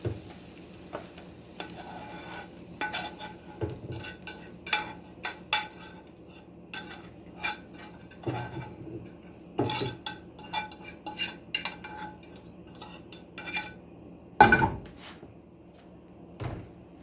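Cooked vegetables for sage sausage dressing being scooped into a bowl with utensils: scattered clinks and scrapes of metal against pan and bowl over a faint background sizzle, with one louder knock near the end.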